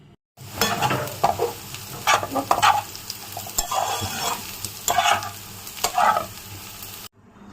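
Bottle gourd and potato stir-fry sizzling loudly in a pan, with repeated spatula scrapes and stirring bursts throughout and no talking; it cuts off abruptly near the end.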